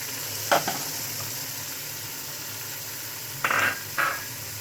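Masala of tomatoes, chilies and spices for aloo tahari frying in a pan, a steady soft sizzle with a few short scraping stirs near the start and end, close, no talking.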